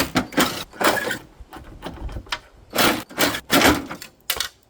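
A front wing panel being pulled off a BMW G31, with a run of loud plastic clatters, snaps and rattling knocks in uneven bursts, heard close by.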